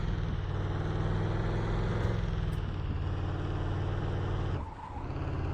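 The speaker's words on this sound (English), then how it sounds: "Oh, that's a handbrake." Steady engine drone and tire noise from a vehicle in Truck & Logistics Simulator, continuous and close, with a brief dip and screech as a handbrake skid near the end.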